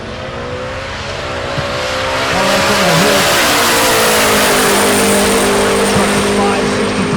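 A turbocharged truck with its turbo gear and intercooler in the bed roars down the quarter mile at Tulsa Raceway Park, its loud engine note rising and holding through the run over a broad hiss of spool and crowd noise.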